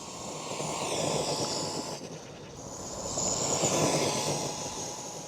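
A small RC car on a 2-cell battery runs at full throttle, giving a loud, steady high-pitched electric motor whine that dips briefly midway and then surges again, with no talking.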